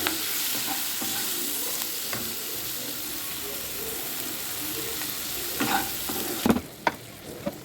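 Spices and tomato fry in a pan for matar paneer with salt added, a dense, steady sizzle close up, broken by a few scrapes of stirring near the end.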